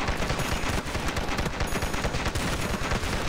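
Dense, continuous rapid gunfire from the video game Dead Ahead: Zombie Warfare, bursts overlapping into a loud, sustained barrage with no pauses.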